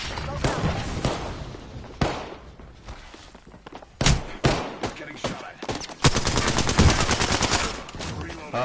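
Bursts of gunfire from a PS4 shooter game, rapid automatic volleys and single loud shots with thuds and impacts, dense and close, building into a sustained stream near the end.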